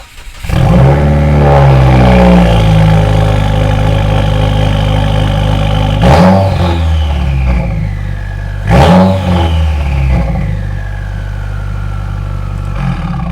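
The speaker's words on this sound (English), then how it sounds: "The old exhaust system is a aftermarket J pipe, then the stock Y pipe, and then an ETS axle back muffler delete. And as you could tell, it is super loud." A Subaru WRX with an aftermarket J-pipe, stock Y-pipe and ETS axle-back muffler delete roars very loudly close up. It holds a heavy, raspy drone, then gives two sharp throttle blips partway through before settling to a lower rumble.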